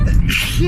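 A single short sneeze from a person during a spoken film review, with speech immediately before it and overlapping the end.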